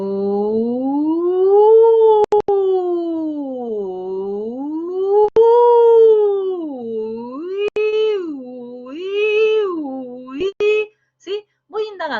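A voice imitates a siren during a vocal technique lesson, gliding smoothly up and down in repeated wails, loud and close, then breaking into shorter, choppier rising sounds near the end.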